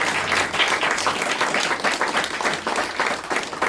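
Audience applause for graduates at a graduation ceremony, a dense, steady wash of many hands clapping close and loud throughout, with no talk over it.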